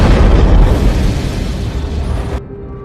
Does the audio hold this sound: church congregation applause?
no